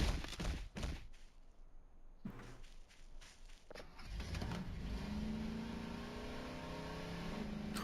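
An ATV engine in Voices of the Void, quiet thumps and a few steps at first, then a steady motor drone that rises in pitch as the vehicle accelerates and keeps running close by.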